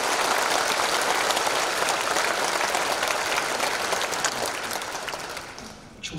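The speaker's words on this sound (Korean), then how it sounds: "저 하늘에 계신 만군의 하나님 여호와 앞에 모든 영광의 박수를 뜨겁게 올리겠습니다" Warm, sustained applause from a sizable church worship service audience, holding strong before tapering off toward the end.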